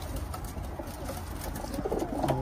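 Teddy pigeons coo softly in a loft in London, a few low murmuring calls rising near the end over steady background noise.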